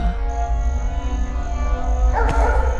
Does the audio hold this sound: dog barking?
yes